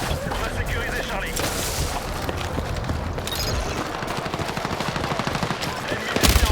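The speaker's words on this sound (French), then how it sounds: "Je lance une grenade." Continuous automatic gunfire in the Battlefield 6 video game, a loud rapid rattle throughout with a few heavier bangs near the end and voices mixed in.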